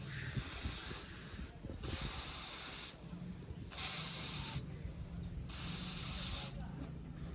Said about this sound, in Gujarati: ચલો ફુગ્ગા ફૂલાવો બધા